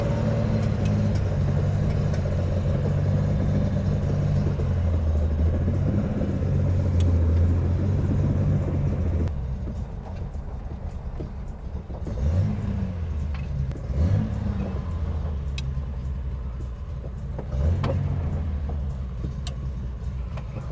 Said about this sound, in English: I just got it moving up and down the street